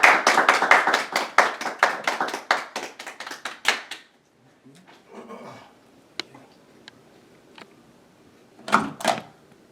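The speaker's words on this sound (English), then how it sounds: "Can we, everybody clap." A small group claps hands together for several seconds, a quick irregular patter of close claps that fades out, followed by quiet with a few stray taps and a brief final pair of claps.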